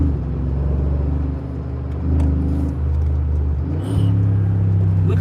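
A 2017 Mercedes G63 wagon engine rumbles steadily while driving, with a deep, loud drone that dips briefly and then swells again as it pulls away.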